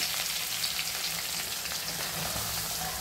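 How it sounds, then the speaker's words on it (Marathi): Ginger garlic paste sizzling in hot oil as the base for pav bhaji, a steady, dense hiss of frying that holds loud and unbroken from start to finish, with no talking. "चला आता फोडणी देऊ आपण। पहिले आलं लसणाची पेस्ट, तेल तापत ठेवलं होतं मी अगोदर।"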